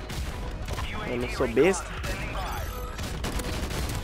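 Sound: grenade explosions and gunfire in a shooter video game

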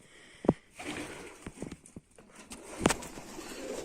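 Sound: pigeon

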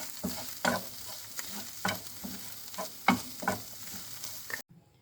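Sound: stirring minced meat frying in a pan

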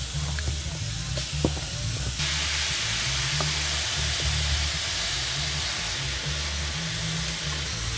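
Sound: beef browning and sizzling in a pan

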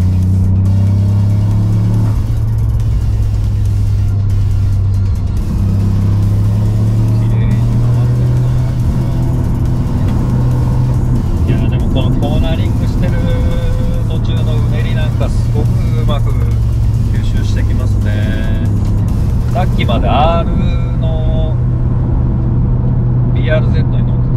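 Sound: car cornering on road with HKS Hipermax suspension

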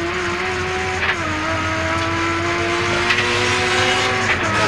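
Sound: race cars on a circuit in a touring car race

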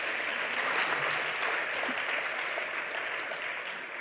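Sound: audience applause at awards ceremony

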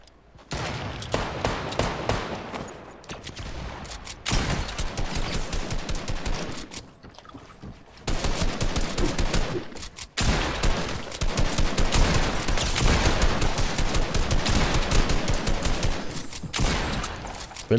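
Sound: gunfire in a video game

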